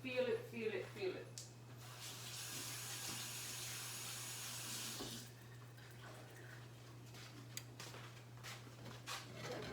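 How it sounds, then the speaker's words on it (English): Water poured into a pot of drying chickpeas during curry cooking, a steady rushing splash lasting a few seconds over a low kitchen hum, then fading into quieter sizzling and bubbling. "Pour some water in my chickpeas because they are drying out."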